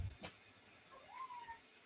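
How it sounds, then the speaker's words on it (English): A pet cat named Lily, kept indoors and wanting to go outside, gives a single faint, drawn-out meow after a soft thump, quiet and a little distant in a calm room. "The upset cat."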